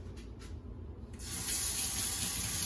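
Kitchen tap turned on, water rushing loudly and steadily into a sink after a brief quieter moment, close and continuous with no talking.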